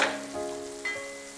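Spice powders frying in oil as they are stirred, a soft short sizzle with a light scrape and a faint tonal ring, quiet and close.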